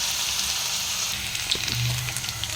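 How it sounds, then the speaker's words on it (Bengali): Potatoes fry in hot mustard oil with black cumin seeds in a Bengali aloo posto dish, giving a close, steady crackling sizzle with scattered pops and no talking. "এবারে আলুটাকে ভালো করে ফ্রাই করে নেবো।"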